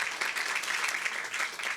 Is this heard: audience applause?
yes